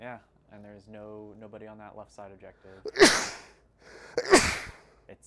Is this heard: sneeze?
yes